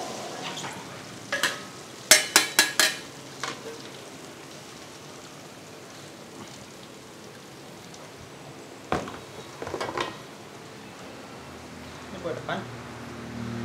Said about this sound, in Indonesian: kita goreng dulu teman-teman ya